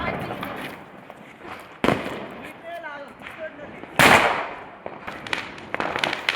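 Diwali firecrackers explode in a residential setting, two sharp loud bangs a couple of seconds apart amid scattered crackling and background voices, with a faint whistling rocket in between.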